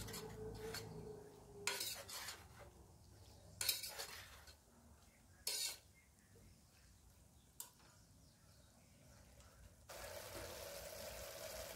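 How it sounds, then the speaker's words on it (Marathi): A spoon scrapes and clatters in a pot as coriander is stirred into masoor pulao, in several short bursts over a faint background hiss that turns to a sizzle near the end. "आता त्यात कोथिंबीर घालून घेऊ, तीही चांगले मिक्स करून घेऊ।"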